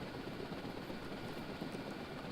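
A helicopter in the submarine warfare game Dangerous Waters gives off a steady, unbroken rotor-and-engine drone that is moderately loud and continuous throughout, with no voices.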